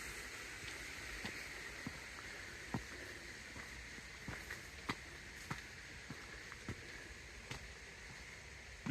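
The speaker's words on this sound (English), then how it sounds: "I don't think it's a real creek." Water in an artificial, pumped creek at a Japanese garden runs in a steady soft rush, with faint clicks and taps scattered through it.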